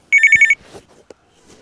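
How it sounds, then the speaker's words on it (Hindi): A telephone rings indoors with one short, loud electronic trill of rapid pulses lasting under half a second, followed by faint rustling and quiet. "किस कमबख्त का फ़ोन आ गया?"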